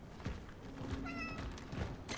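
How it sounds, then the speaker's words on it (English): A cat in the video game Cronos: The New Dawn gives a single clear meow midway, surrounded by soft game thumps and ambient noise, with no talking. "A meow."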